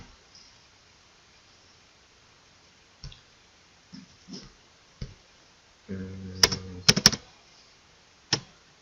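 Typing a search into a computer keyboard: sparse, scattered key clicks, then a short burst of quicker taps and a final click, close and fairly quiet in a still room.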